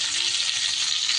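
Slices of pointed gourd (potol) sizzle in hot oil in a pan, a steady, close hiss with no other sounds.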